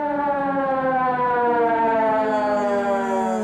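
An ambulance siren sounds loud and steady, its tone sliding slowly up and down, with no voices.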